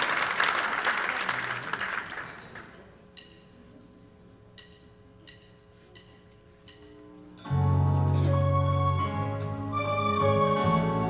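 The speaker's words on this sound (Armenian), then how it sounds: "Ես ուզում եմ, որ դուք լավ ծափարեք մեր հիանալի երաժիշտների" An audience applauds musicians at a concert with a short burst of dense clapping that thins out. Sustained instrumental music then carries on and swells as a new song begins.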